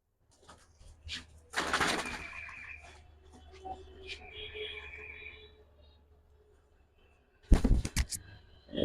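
Pigeons kept by a fancier, high-flying Giribaz and similar breeds, make soft intermittent coos and bird calls, with a brief louder burst of activity near the start and another near the end, fairly close by.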